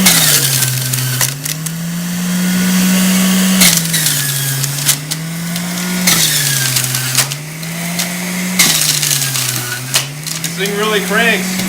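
Omega Vert VRT330 slow juicer crushing watermelon, a low motor hum with repeated cranking, squeaking and crunching cycles every few seconds, loud and close.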